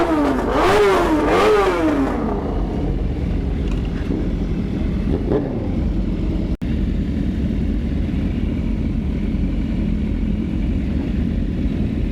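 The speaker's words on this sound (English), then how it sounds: "That loud bike" A loud motorcycle at a race-day ride-out revs sharply several times up close, the engine note rising and falling in quick blips before dropping into a lower, fading rumble, with one brief sharp knock midway and no talking.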